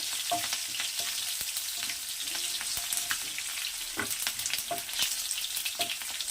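Cumin, mustard seeds, curry leaves and a green chilli fry in hot oil, a steady close-up sizzle with scattered pops and crackles and occasional light stirring taps.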